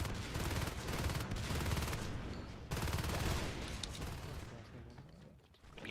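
Shotguns blasting in the video game Natural Selection 2, a loud, dense barrage of overlapping shots that keeps up for several seconds before thinning out and fading near the end.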